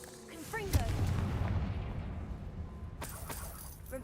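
A Confringo blasting spell cast in Hogwarts Legacy: a loud blast at the start rolls into a sustained rumbling burn, then a second sharp burst near the end, all over steady game background.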